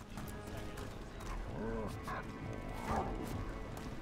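A dog in the video game Dragon Age: The Veilguard lets out two short barks or whines a second apart over continuous game ambience.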